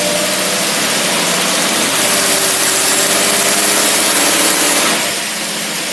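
A vehicle engine fitted with an Autolite carburetor labors steadily while pulling a load of flat tires uphill, a loud continuous drone that rises slightly in pitch before easing off near the end.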